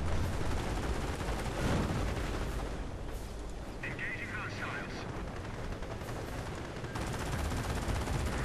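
A Calliope rocket barrage in a strategy video game, the multi-rocket launcher fires a dense, continuous roar of whooshes and explosions, loud and sustained, while a voice talks over it.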